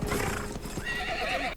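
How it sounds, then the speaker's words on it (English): A horse in the film Gladiator whinnies with a loud, wavering neigh over the clatter of hooves and battle noise, close and prominent throughout the short burst. "poor horse"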